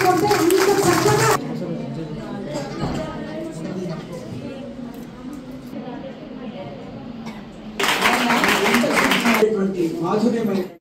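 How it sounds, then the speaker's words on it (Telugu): A birthday celebration audience breaks into loud applause at the start and again near the end, with a speaker's amplified voice carrying on between the bursts. "మీరంతా గట్టిగా చప్పట్లు కొడితే అంత చక్కగా"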